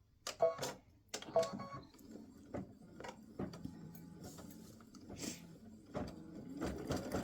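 An embroidery machine stitches a freestanding-lace bow earring center, producing quiet, rapid mechanical ticking and whirring, with a few sharper clacks early on, close but faint.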